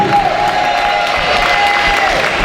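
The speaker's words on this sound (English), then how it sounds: "Let's give them a round of applause," Applause and cheering from the audience at a Ward 5 Leadership Council candidates' forum, a steady wash of clapping and crowd noise across the whole moment with a faint sustained tone running beneath it.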